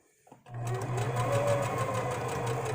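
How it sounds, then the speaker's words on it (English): A sewing machine starts up and runs steadily, humming and whirring in a continuous even rhythm while stitching a serger-style stitch. "I'm using my favorite stitch on here, which is the serger stitch"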